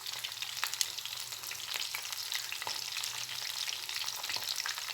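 Chicken pieces frying in oil in a pan for chicken kondattam, an even close sizzle and crackle with occasional sharp pops and light stirring, no voices.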